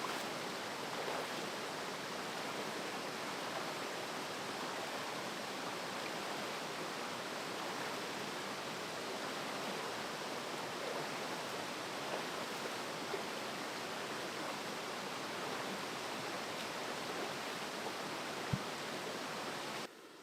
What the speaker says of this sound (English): So you can see obviously this little waterfall.